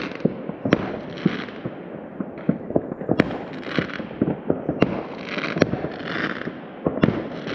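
New Year's Eve fireworks in St. John's heard through a window, many sharp bangs and crackles going off irregularly and overlapping, some close and loud, others more distant, over a rumbling background.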